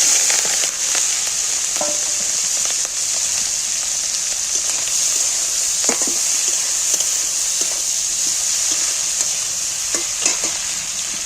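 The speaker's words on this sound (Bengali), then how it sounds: "এবার তেলও খুব গরম হয়ে গেছে আমি মাছগুলো তেলের মধ্যে তুলে দিই" Shrimp frying in very hot oil, a steady loud broadband sizzle with scattered crackles and pops throughout, no talking.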